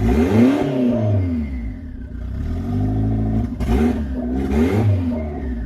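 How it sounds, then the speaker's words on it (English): A turbocharged drift car engine revving on jacks, rising and falling pitch with mechanical clatter and brief turbo whooshes and flutter, loud and close. "Some turbo noises too."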